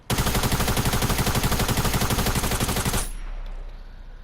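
A drum gun fires one long unbroken automatic burst in a video game, loud and close with a fast steady rattle for about three seconds, then it cuts off abruptly and only a faint background hum remains.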